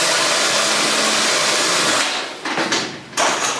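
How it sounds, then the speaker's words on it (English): A power drill bores a pilot hole into a wooden stand, giving a loud, steady whirring whine that runs for about two seconds before dropping off into short, uneven bursts as the bit stops and restarts. "go ahead and drill a pilot hole right there"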